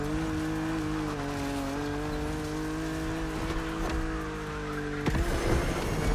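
A BMW Z4 coupe cabriolet in The Crew Motorfest drives with a steady engine drone carrying a stable tonal whine, a brief tire squeal, and a small rise near the end, loud and continuous without speech.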